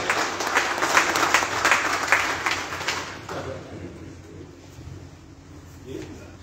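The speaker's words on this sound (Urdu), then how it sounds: "بھرپور تالیاں دے نال تشریف لے آنے پہلوان آفتاب جٹ" A crowd applauds loudly for a few seconds at a cultural event in honour of a guest, the clapping then fading away into quiet room noise with a faint voice.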